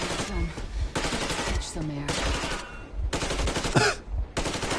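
Sustained machine-gun fire in a video game, delivered as dense rapid bursts that run almost without pause across the whole stretch, loud and close, with brief gaps between volleys.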